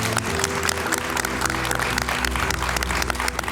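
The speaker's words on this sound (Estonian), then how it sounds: "teeme suur aplausi" Audience applauding the winners of a youth cyber defence championship, steady crowd clapping over a low musical hum, continuous and even throughout.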